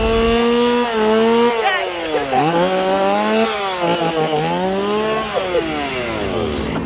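Chainsaw engine revving loudly and continuously at Halloween Horror Nights, its pitch rising and falling in repeated swoops as the throttle is worked, close and steady with crowd noise underneath.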